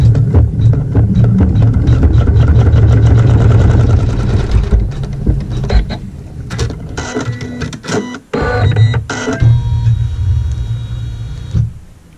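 A sewing machine stitching a tack on quilt fabric, running in a fast steady mechanical chatter at close range, then slowing into stop-start bursts with clicks and pauses before stopping.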